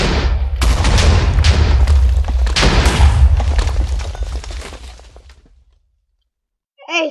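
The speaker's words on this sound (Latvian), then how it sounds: "kas pa sprādzienu bija" A loud, close Minecraft explosion: a deep rumbling boom with crackling debris that fills several seconds and then fades into silence, followed by a brief separate sound at the very end.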